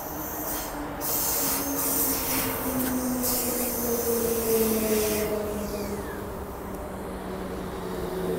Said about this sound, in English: But here's our Armadale C pattern, 4 cars, very smooth connection.